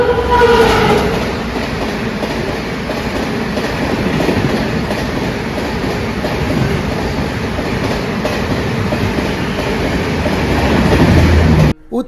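A packed Dahanu–Panvel MEMU train runs along the rails with a loud, steady rumble and rhythmic clickety-clack of wheels, heard continuously from close by before an abrupt stop.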